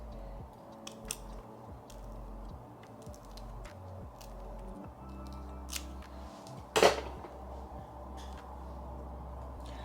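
Scissors snip through a pre-cut 90s-style short bob wig in a quiet room, with several faint, separate close-up clicks and one sharper, louder cut near the end.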